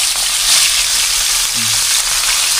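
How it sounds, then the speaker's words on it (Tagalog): Deboned milkfish (bangus) fries in a pan with a steady, close crackling sizzle that continues without a break. "Prituin ko lang muna ito."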